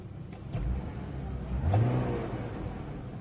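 A car engine idling after an ignition coil repair for misfires, running steadily at moderate level with a brief rise in revs partway through.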